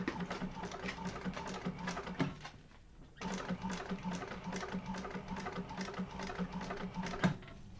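A sewing machine makes a back stitch while sewing a Yoshi sling bag in a class, its needle clattering in fast runs that pause briefly mid-way, then resume at an even, moderately close pace.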